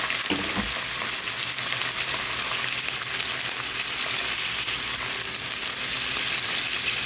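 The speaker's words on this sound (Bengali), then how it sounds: "এখন পনিরগুলো ভেজে নিব" Paneer cubes fry in oil in a fry pan for palak paneer, giving a steady, dense sizzle that runs evenly throughout with no voices.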